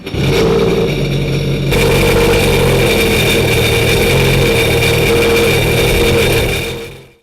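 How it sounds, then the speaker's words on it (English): A jet ski engine turns over and settles into a loud, steady idle with a constant drone, then the sound cuts off at the end. "Now obviously if we hit it again, it's going to start that engine."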